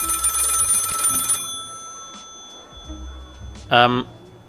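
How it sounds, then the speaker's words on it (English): A telephone rings in a video game, a loud electronic trill in one long burst followed by quieter background game sounds and a short voice at the end. "Pick up the phone."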